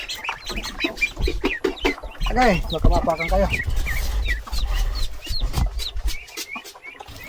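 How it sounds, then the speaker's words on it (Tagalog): Native chickens clucking and chirping close by on a farm, short irregular calls scattered among someone speaking and rustling movement. "Silipin natin yung native na manok"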